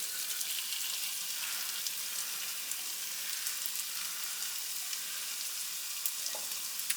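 Seasoned ground beef fries in a pan, giving a soft continuous sizzle with light crackles and a few stirring scrapes, fairly quiet and with no voices.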